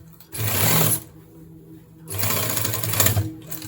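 A sewing machine stitches a pants zipper with a double line of stitching, running in two loud close bursts of rapid mechanical whirring separated by a quiet pause.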